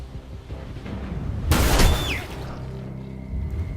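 A sudden loud burst of gunfire in Detroit: Become Human cracks out over a low, rumbling background, then fades into a quieter tail with a faint high tone.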